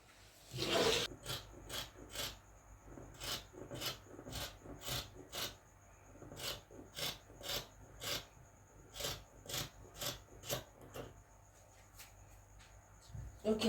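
Scissors cutting out dress fabric for a ruched-waist shirt dress, a series of close, rhythmic rasping snips repeating about once a second, with a louder rustle at the start.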